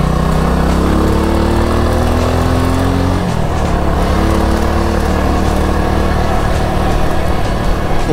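A motorcycle drones steadily while riding on a road trip, its engine note loud and continuous, shifting pitch as speed changes partway through.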